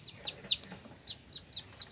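Newly hatched chicks peeping, a series of short high chirps in quick bursts, close but fairly soft, with quiet rustling between calls.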